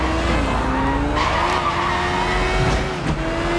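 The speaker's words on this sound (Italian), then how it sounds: "sgommiamo come i tamarri e partiamo." A motorbike's tire skids in the Sleeping Dogs video game: a loud, sustained screech that rises and wavers over a steady engine drone, continuous for several seconds.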